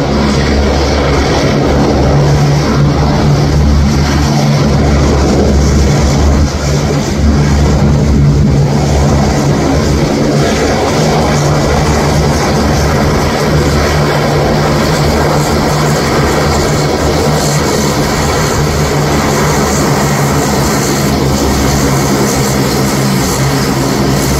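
A REX Saab 340B turboprop airliner taxis at Merimbula Airport, its propeller engines droning loud, steady and close for the whole stretch, with no talking over it.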